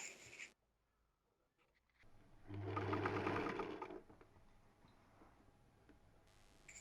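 A sewing machine stitches a patchwork binding seam for a kitchen set, running in a steady mechanical whir for about two seconds after a quiet pause, then fading to soft handling noise.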